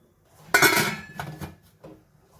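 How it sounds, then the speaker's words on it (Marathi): Inside a kitchen, a metal dish is set into an idli cooker over boiling water and the lid goes on, giving a loud metallic clatter followed by a couple of lighter clinks and a final soft knock. "आता आपण हे त्याच्यामध्ये ठेवूया झाकण घालून"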